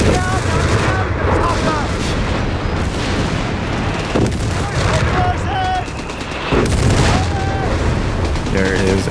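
Dense battle noise from the strategy game Company of Heroes 3: continuous gunfire and booming explosions blend into a loud, thick wash, with soldier voices calling out over the combat.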